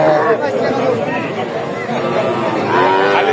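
Cattle low at a busy livestock market selling bulls and heifer calves, a moo rising over loud crowd chatter and bargaining voices.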